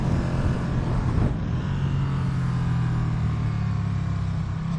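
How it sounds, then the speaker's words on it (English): A 2024 Ducati Streetfighter V2 V-twin motorcycle engine drones steadily during a ride, its low rumble continuous and close, with wind noise mixed in and no talk. "This is a revvy V-twin."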